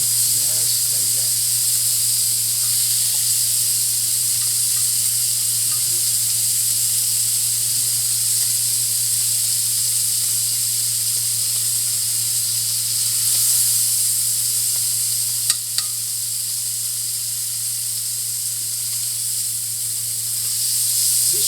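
Churrasco steak searing in a hot pan, giving a steady, loud broadband sizzle and hiss that runs unbroken throughout, with a constant low hum underneath.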